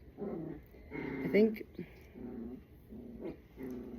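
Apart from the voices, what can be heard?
dog growling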